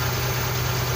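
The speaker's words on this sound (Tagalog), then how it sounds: "Kung una natin pa-start mga boss ay medyo parang nagpa-vibrate yung makina." A Suzuki F6A engine in a multicab with a hard-starting problem runs steadily after starting, giving a continuous low rumble with a shaky, vibrating undertone throughout. It is close and alone, with no talk.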